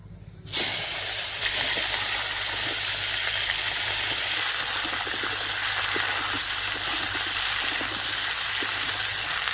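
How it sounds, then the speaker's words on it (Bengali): Cauliflower and potato frying in a pan, starting with a sudden loud burst of sizzling hiss that then holds steady and close for several seconds, with no talk. "ফুলকপি আর আলুটা ভেজে নিচ্ছি।"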